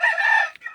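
A Kadaknath chicken gives a single short, close, loud clucking call that lasts under a second and ends in a small hiccup.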